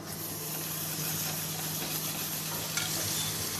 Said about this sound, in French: on a fait chauffer 4 petits sautoirs pour avoir vraiment 4 cuissons différentes des champignons